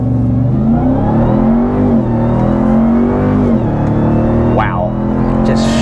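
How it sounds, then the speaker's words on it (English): A 2021 RAM TRX pickup accelerates hard with a loud, steady supercharger whine rising over the engine roar, heard from inside the cab and rising in pitch toward the end. "supercharger whine that doesn't get old"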